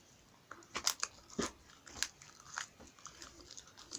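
Meringue cookies crunch close to the mouth, with several sharp, crisp bites followed by quieter chewing crackles over about four seconds.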